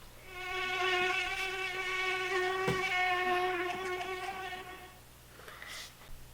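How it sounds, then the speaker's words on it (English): A mosquito buzzes steadily in a thin, high, whining drone that wavers slightly in pitch, continuous for several seconds and close, with no other sound around it. "Here's what a mosquito sounds like."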